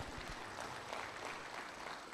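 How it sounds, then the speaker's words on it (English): Applause from an audience at the official launch of Kenya's road design manuals, a soft, diffuse patter of many hands clapping, fairly faint and distant, steady for the whole stretch with no speech. "A good round of applause for Engineer Andrew Gitonga."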